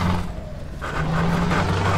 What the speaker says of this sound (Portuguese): Olha a rascada na marcha.